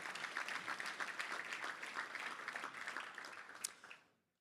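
A round of applause from an audience at a Touchdown Club luncheon for a raffle winner, steady mid-distance clapping from a large room that fades out near the end.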